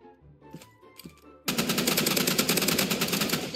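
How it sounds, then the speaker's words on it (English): Gunfire in a Roblox gun game starts suddenly after a few soft game tones and then keeps going as loud, continuous automatic fire, each shot close together in a rapid rattle. "He's over there already trying to shoot me."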